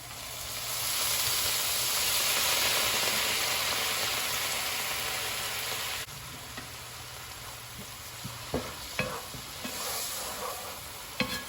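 White wine poured into a hot frying pan, a steady broadband sizzle that swells loudly, then settles quieter with scattered sharp pops and crackles toward the end; no one speaks.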